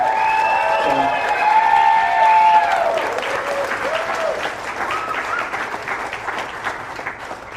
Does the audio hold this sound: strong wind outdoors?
no